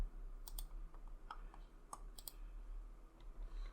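Computer mouse clicks while exporting an animation in Unreal Engine, a few faint, sparse clicks over a low background hum.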